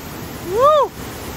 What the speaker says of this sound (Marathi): वॉटरफॉलचा आवाज खूप आहे